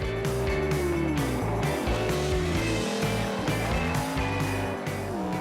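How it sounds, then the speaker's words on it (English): A Chevy S10 super stock truck races up the Pikes Peak hill climb, its engine roaring loud and continuous with rising and falling revs through gear changes, close to the microphone. "Larry powered his Chevy S10 up the hill to take a dominant victory in the super stock truck class."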